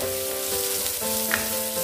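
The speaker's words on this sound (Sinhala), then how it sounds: "ලුණු, ඒ වගේම කරපිංචා, ඉඟුරු සුදු ලුණු ඒ ටික එකතු කරලා හොඳින් තෙම්පරාදු කරගන්නවා" Onion, curry leaves, ginger and garlic tempering in hot oil, a loud close crackling sizzle throughout with a brief spatter, no voices.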